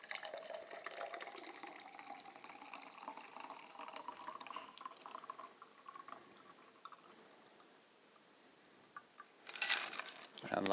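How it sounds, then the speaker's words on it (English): Sparkling water is poured into a Paloma cocktail, giving a soft, continuous trickle with a fizzy hiss that grows quiet partway through, then a brief louder splash near the end. "we top it up with some sparkling water"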